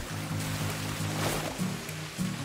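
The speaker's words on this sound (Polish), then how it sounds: "Po wejściu wskakujemy tutaj do tego wodospadu" A waterfall at the Shrine of the Coral Tomb in a video game rushes with a continuous broad roar, steady and close, under a looping musical tone.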